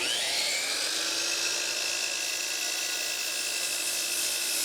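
A miter saw makes 45-degree cuts for an acoustic panel frame, giving one continuous loud high-pitched whine and blade hum that stays steady throughout and cuts off abruptly at the end, with no talking.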